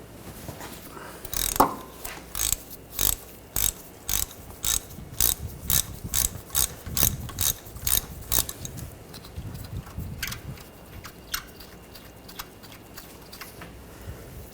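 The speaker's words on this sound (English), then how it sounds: "We're going to loosen up this bolt. Use a 15mm socket." A ratchet with a 15mm socket loosens a bolt on the engine torque strut mount of a 2013–2019 Ford Escape, giving a rapid series of sharp clicking bursts in a steady back-and-forth rhythm, close and clear, then tapering to sparse clicks.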